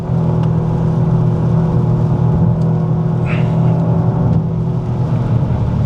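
A three-cylinder rally car engine hums loud and steady from inside the car, its tone rising slightly midway, with a brief voice-like sound over the drone.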